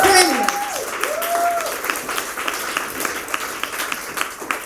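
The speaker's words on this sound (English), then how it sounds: "Give yourself a round of applause" A conference audience breaks into applause, a dense spread of clapping that holds steady across the room for several seconds, with a voice speaking over it at the start.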